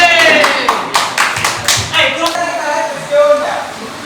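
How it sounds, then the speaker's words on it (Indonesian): Applause from students in a classroom after a presentation, a lively patter of many hands clapping for a few seconds, fading unevenly with a voice speaking over it. "Berikan aplaus lagi."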